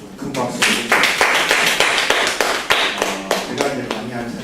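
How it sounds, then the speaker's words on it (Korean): Applause after a university lecture on ICT startups and faith: irregular sharp claps from a modest audience, steady and fairly close for several seconds. "아주 좋은 강의 해주신 우리 김기홍 교수님께 다시 한번 좀 큰 박수 드립니다"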